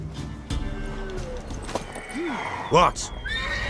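A mare in The Witcher 3 video game whinnies loudly and close, hooves clip-clopping around it, with brief spoken voices around the neigh.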